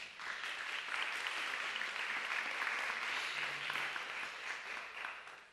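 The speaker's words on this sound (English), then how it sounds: "Let's give them a round of applause." Steady applause from the audience at a TEDx salon on children's mental health, a dense, even wash of many hands clapping at moderate distance, fading slightly at the end.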